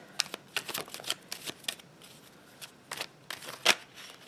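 Tarot cards being handled and drawn from a deck make soft, crisp shuffling and flicking sounds, a series of light irregular riffles and snaps heard close up and fairly quiet.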